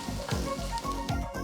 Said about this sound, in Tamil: 3 மீடியம் சைஸ் வெங்காயம் நறுக்குனது சேர்த்து வதக்குங்க